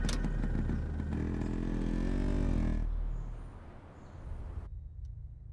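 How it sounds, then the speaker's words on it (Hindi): A motorcycle engine rumbles loudly up close, its pitch rising as it revs, then drops away as the bike rides off and fades into quieter background noise. "तुम्हारी टांगों के बीच एक बाइक है, कोई रॉकेट नहीं। संभाल कर चलाना।"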